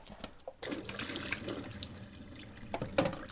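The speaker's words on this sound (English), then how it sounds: "And pour that rinse water out." Rinse water poured out of a film developing tank into a sink, a steady splashing gush that runs for about three seconds before ending in a few louder, closer splashes.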